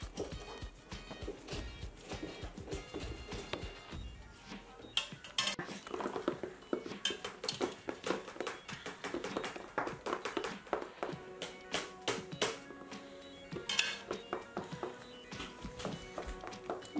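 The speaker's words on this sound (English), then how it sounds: "You want to keep mixing until it gets a bit thick and looks like it's coming together." Fluffy slime mixed with borax is stirred in a bowl, giving quiet, irregular taps, clinks and soft sticky clicks of a utensil against the bowl that run on continuously, with no talking.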